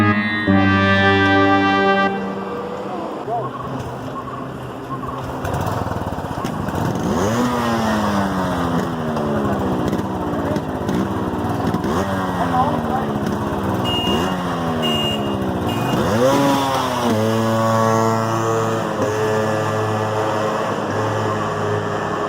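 A Yamaha RX-135 two-stroke motorcycle and a Royal Enfield Bullet rev hard in a roadside drag race, with repeated rising and falling engine notes as gears shift. The sound is loud and close, with no talk.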